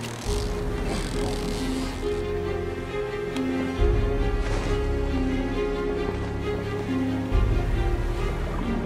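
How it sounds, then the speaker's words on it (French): Ocean waves wash and surge continuously, with a low rumbling roar and hissing surf, mixed with a soft sustained musical drone. "je distinguais le chant des vagues et du ressac"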